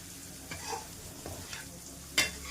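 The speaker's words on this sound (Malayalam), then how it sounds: "കക്ക ഫ്രൈ ചെയ്യാൻ ആരംഭിച്ചിട്ടുണ്ട്." Mussels frying in a pan, with a low steady sizzle broken by a few brief scraping stirs and one sharper clatter near the end, close by and without talk.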